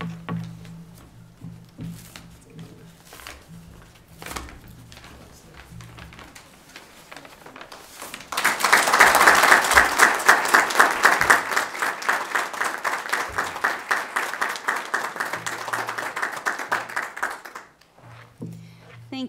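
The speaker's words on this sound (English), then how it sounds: "take a moment to actually applaud you" Applause breaks out at a transit agency board meeting, a dense burst of clapping that swells loud and holds steady for several seconds before tapering off, with talk before and after it.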